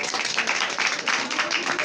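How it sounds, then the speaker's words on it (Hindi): Students applauding in a coaching classroom in Bihar: a dense, continuous patter of many hands clapping at close range, blending with some voices. "इसके लिए ताली हो जाए"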